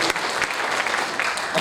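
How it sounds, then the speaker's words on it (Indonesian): Congregation applauding in a church during an Easter Sunday sermon, a dense steady wash of clapping filling the short moment with no pauses. "Tepuk tangan buat Tuhan kita."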